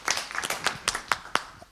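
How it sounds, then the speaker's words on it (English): Brief scattered clapping from a small conference audience at a software networking talk, a handful of distinct hand claps rather than full applause, moderately close and fading out quickly. "I mean, round of applause."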